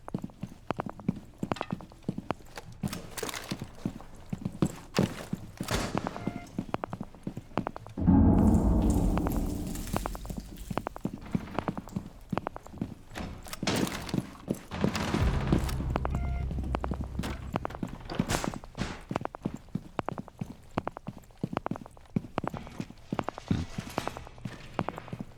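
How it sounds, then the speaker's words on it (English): Footsteps in the game Warframe, a continuous run of crisp, evenly paced steps that sound almost like hoof clops, loud and close, with bursts of heavier rumbling action in the middle and no talking. "I hear footsteps, but I don't see anyone."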